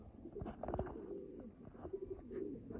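A pet pigeon of a Firozpuri pairing coos softly in a home breeding loft, a few low throaty rolling calls repeated close by over a quiet background, without talk.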